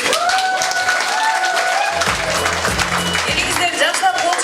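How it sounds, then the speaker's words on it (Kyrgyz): An audience at a local concert applauds steadily, dense clapping running throughout, with a voice and some music tones carrying over the crowd noise. "Элиңиздер жакшылап кол чабып досол алгысын эжебизден."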